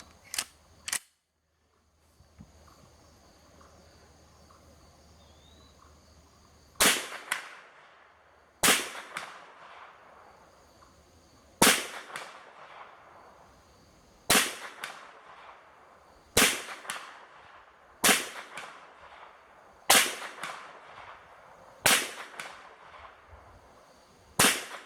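Sharp, loud shots from a .351 Winchester rifle fired off a bench, a quick pair at first, then after a pause seven more spaced evenly about two seconds apart, each with a short decaying echo.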